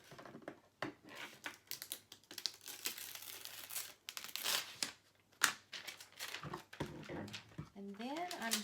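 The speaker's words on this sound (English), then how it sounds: "And we'll get our little scraper and apply it to the transfer tape." Vinyl pressed onto transfer tape with a small scraper while making a Cricut Christmas tumbler: scratchy, irregular rubbing and crinkling strokes at close range, with quiet background hum and a brief squeak near the end.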